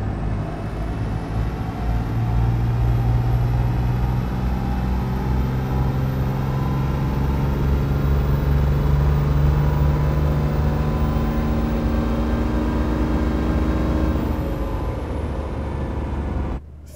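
A diesel truck engine on a dyno, tuned with EFI Live, roars at full load for the whole stretch. Its pitch climbs slowly and steadily, then drops off sharply at the end of the run.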